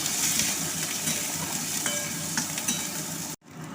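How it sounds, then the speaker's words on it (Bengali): Chopped onion fries with dried red chillies in a hot pan, a dense, loud, steady sizzle with light stirring clicks, close up, cutting off abruptly near the end. "একটা গোটা পেঁয়াজ কুচিয়ে দিয়ে দিলাম কিছুক্ষণ ভেজে নিলাম"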